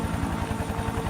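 A helicopter pursuing a smuggler's vehicle, its steady rotor chop and engine drone loud and continuous, close overhead with no voices.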